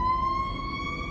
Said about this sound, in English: Oh, that's a fire truck.